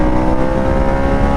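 Harley-Davidson Sportster motorcycle pulling hard at the top end down a straightaway, a loud, close, steady engine roar with a dense throbbing exhaust note and no talk.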